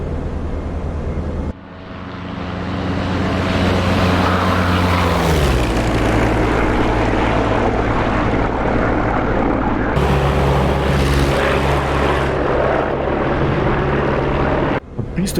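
A P-47 D30 Thunderbolt's propeller engine drones loud and close in the DCS flight game, its pitch sliding down as the plane passes, then a sudden shift to a deeper steady roar near the end.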